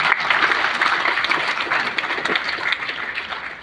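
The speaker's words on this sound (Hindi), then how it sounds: "ताली बजा दीजिए" Audience at a long-running comedy poetry gathering (kavi sammelan) in Lucknow applauding, a dense continuous roar of clapping and crowd noise, loud and sustained throughout.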